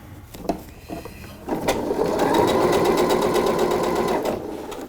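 Sewing machine stitches along a seam joining the main fabric to a sleeve, with a few clicks before a steady rapid whirring run of about three seconds that fades out, close and loud.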